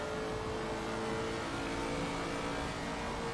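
A Lexus race car engine in the video game Assetto Corsa Competizione, at Suzuka, roars continuously at high revs, loud and steady with a harsh, buzzing tone and no talking.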